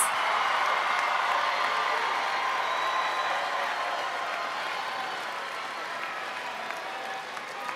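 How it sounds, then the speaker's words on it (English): Graduating seniors receiving a big round of applause from a crowd at a high school graduation ceremony, a broad sustained clapping that slowly tapers off. "Give them a big round of applause."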